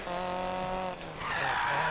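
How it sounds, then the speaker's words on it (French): A Ford Focus RS in the Need for Speed Payback video game roars with a droning engine tone as its tyres skid and squeal, the pitch dipping briefly before a harsher screech takes over. "le bruit du moteur, il est assourdissant"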